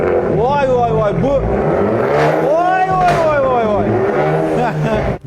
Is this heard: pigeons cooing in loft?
no